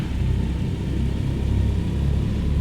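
The Douglas DC3's engines in Microsoft Flight Simulator 2020 give a steady low rumbling drone as power comes up, continuous and fairly quiet, with no talk over it.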